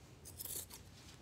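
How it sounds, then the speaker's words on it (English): Scissors snip once through a fabric seam allowance, a short, crisp cut that is quiet and close. "I just trimmed down the seam here."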